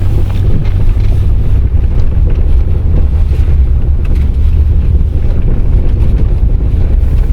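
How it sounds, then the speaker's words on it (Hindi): A car rolls over snow, giving a loud, steady low rumble with crunching texture and buffeting wind noise throughout, no voices. "यहाँ पे देखिए 20 स्नो पे जो गाड़ी चल रही है तो किस तरह की आवाज़ आएगी।"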